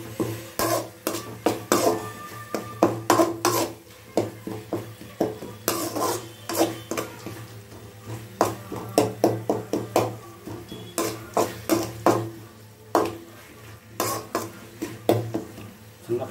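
A spoon stirs tomatoes sautéing in oil in a pan for a tomato rice dish, with repeated close scraping and clinking strokes in an irregular rhythm and a low steady hum underneath.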